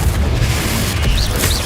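Confringo spell blast in Hogwarts Legacy, a loud continuous booming roar with deep rumble and crackle that fills the whole moment, with brief whooshing tones on top.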